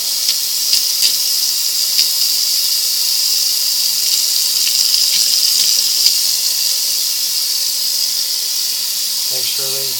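Tap water runs in a steady hiss while an object is rinsed and washed under it, continuous and close throughout, with a few faint squeaky clinks near the end.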